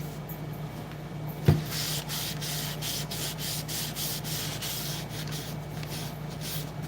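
Wax is wiped by hand off upcycled piano keys, making soft, close rubbing swipes in a steady rhythm, with one sharp knock early on and no talk.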